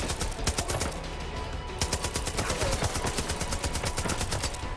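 Rapid automatic gunfire from the video game Far Cry 5 rattles in dense, loud bursts, near and sustained, with brief gaps between volleys.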